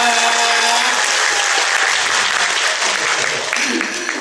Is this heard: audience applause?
yes